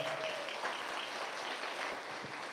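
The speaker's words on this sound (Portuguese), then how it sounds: "Vamos dar uma salva de palmas para ela." Audience applause at a Catholic gathering fills the clip, a steady faint wash of many hands clapping from a distance with no break.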